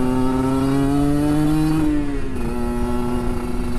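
A Kawasaki Ninja RR 150 two-stroke motorcycle engine revs loud and close, a buzzing high-pitched drone that holds steady then dips slightly in pitch, with no talking over it.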